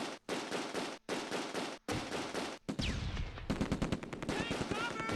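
Rifle and machine-gun fire in the WWII tactics game Close Combat II, at the Nijmegen and Arnhem battles, with bursts of loud shots cut by short gaps, then denser crackling fire near the end.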